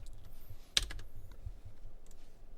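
A few quiet keystrokes tap on a computer keyboard, one sharper click standing out against a soft background hiss.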